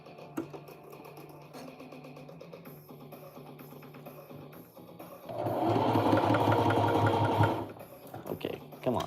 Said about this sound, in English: I think I'll just sew a few more things